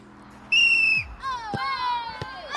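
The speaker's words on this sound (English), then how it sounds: "Ben and Louis, your time starts on my whistle." A referee's whistle starts a timed crossbar challenge, one shrill close blast of about half a second, followed by crowd cheering and excited voices.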